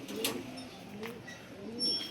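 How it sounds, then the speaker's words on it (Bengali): A prize racing pigeon, father of a black-necked male, gives low rolling coos in three drawn-out phrases, close by with a quiet room tone and light background noise. "খুব সুন্দর একটা কবুতর,"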